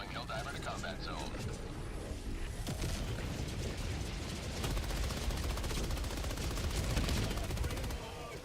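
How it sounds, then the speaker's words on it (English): A machine gun fires in the video game Helldivers 2, in dense rapid bursts among other gunfire and booms, loud and nearly continuous, with a voice talking over the shooting. "This machine gun is actually really fun."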